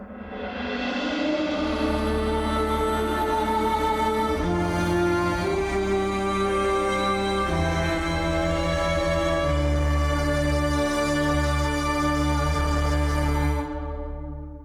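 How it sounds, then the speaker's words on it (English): A sustained video game defeat stinger with shifting low chords plays for about fourteen seconds, steady and full, without any talking. "and then we have our defeat stinger,"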